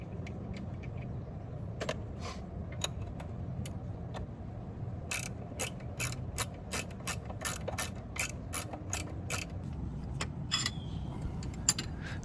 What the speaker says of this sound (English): And now I can unscrew the drive itself.